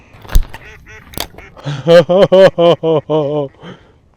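A duck quacks in a rapid series of about seven loud, close, nasal calls in a steady rhythm, after a few short, scattered sounds and a sharp knock near the start.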